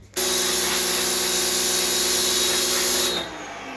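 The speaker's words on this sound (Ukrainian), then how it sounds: "зараз міняє балони і буде смалити рибу" Loud, steady roar of a gas torch burning at full blast for about three seconds while singeing fish, then dropping away to a quieter hiss.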